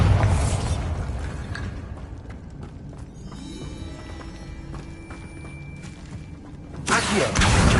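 Bombarda blasting spell explosions in a Harry Potter video game: loud broadband bursts open and close the stretch, with a lower rumbling, mechanical-sounding clatter between them. No voices.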